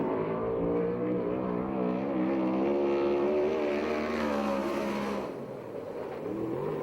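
A sprint car roars around the Perris track in a USAC/CRA race, its engine note rising and falling in pitch as it accelerates and passes, then fading near the end.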